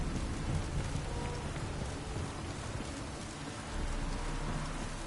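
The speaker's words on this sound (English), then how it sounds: "Always seems to be raining." Steady heavy rain in the video game The Witcher 3 pours down, a dense unbroken hiss with no voices.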